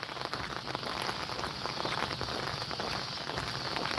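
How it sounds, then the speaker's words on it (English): Rain falls steadily outdoors on a walk, a dense patter of drops on surfaces with faint footstep-like taps mixed in, constant and fairly close, no talking. "Nothing like dancing in the rain, walking in the rain."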